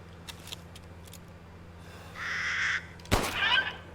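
A crow caws in the game Resident Evil Village, giving two harsh, fairly close calls near the end over a quiet low hum, with a few faint ticks before them.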